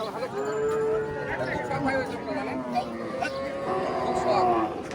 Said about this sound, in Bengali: অনেক সুন্দর একটি বাছুর, দেশি বাছুর।